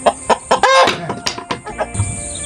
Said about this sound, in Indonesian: ini sangat mengganggu ini ayam-ayam ini